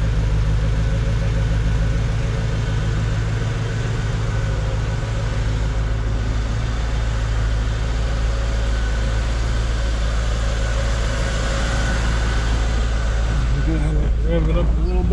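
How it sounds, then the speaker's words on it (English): A 1996 Chevrolet Corvette idles with a steady, deep exhaust rumble recorded from behind the car, constant and fairly loud throughout with a slight shift near the end. "These have that traditional Corvette rumble."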